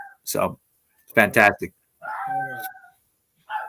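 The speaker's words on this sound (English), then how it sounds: "What the hell is that? That is my dog." A dog lets out a drawn-out, howling bark with a clear tonal pitch, heard between short bursts of someone talking nearby.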